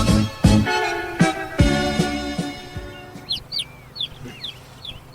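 Bird calls and clucking chickens, with a loud rooster crow in the first half and brief chirps scattered after, fairly close.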